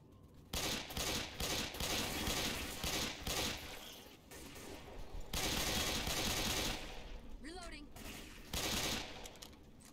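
Sustained automatic gunfire from the player's weapon in Left 4 Dead, loud rapid bursts with brief breaks over roughly ten seconds, mixed with game noise and a voice speaking.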